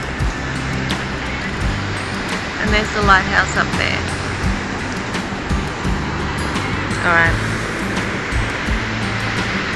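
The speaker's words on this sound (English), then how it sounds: "these waves coming in" Ocean waves break continuously onto Lighthouse Beach at Port Macquarie, a loud steady roar of surf with periodic swells, while someone speaks briefly over the sound.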